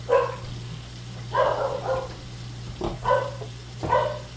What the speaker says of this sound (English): Barking dogs is an added effect.